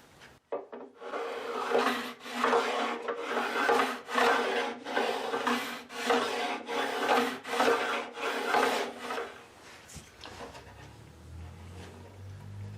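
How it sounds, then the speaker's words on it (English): A sharpening stone rubs back and forth over the frets of a classical guitar in steady, close rasping strokes for about nine seconds, then stops, leaving quiet low rumble. "I'll turn the stone over to the smooth side and refine the scratches"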